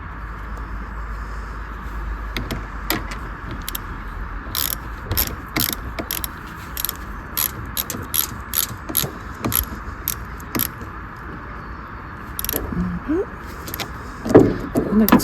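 Ratchet wrench tightening the battery terminal on a Mercedes SLK230 R170, a quick run of close, sharp metallic clicks and ticks over a steady low hum, with light clanks near the end.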